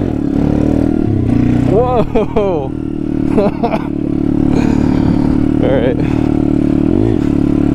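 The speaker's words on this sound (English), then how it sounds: "I'm gonna clutch it up, see if I can pop a little wheelie." An SSR 140cc pit bike engine revs hard through a clutched-up wheelie attempt, the pitch rising and falling in surges close to the microphone, while a rider talks and exclaims over it.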